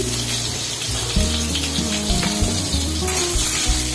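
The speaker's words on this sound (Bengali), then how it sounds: "এবার একটু ভাজা ভাজা করে নিচ্ছি" Potatoes and papaya pieces fry in hot oil in a pan while cooking Bengali dudh shukto, giving a steady, even sizzle that runs the whole time over a low tonal hum.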